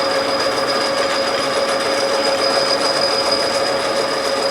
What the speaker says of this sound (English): Once that tool compresses, hear it chattering?